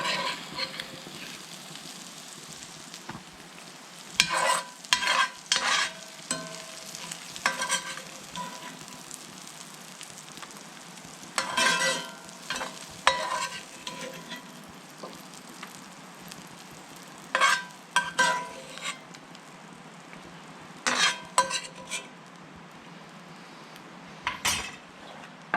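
Vegetables sizzle steadily in butter in a pan at a campsite cookout alongside brook trout and frog legs, with repeated clinks and scrapes of a utensil stirring against the pan over the constant frying hiss.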